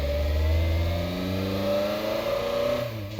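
A turbocharged car engine in the video game JDM: Japanese Drift Master revs up under acceleration, its pitch climbing smoothly and loud with audible intake, then dropping off briefly right at the end.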